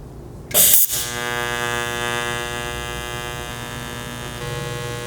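A welding machine hums steadily while a motorcycle exhaust is welded on a junkyard CB750F, with a loud brief burst near the start, then a continuous electrical buzz with shifting intensity as the foot pedal changes input voltage.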